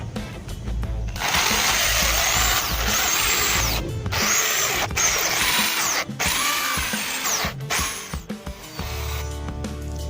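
A power drill with a 9 mm bit whirs loudly and steadily into a worn brake caliper bolt, stopping and restarting several times in short bursts, with a quieter pause before the final run.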